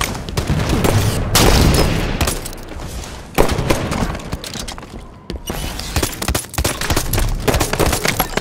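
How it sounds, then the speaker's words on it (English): A grenade is thrown and bursts in Halo 5 on the Aquarium map, one loud blast set among dense, close gunfire that runs through the whole stretch. "Throwing a grenade."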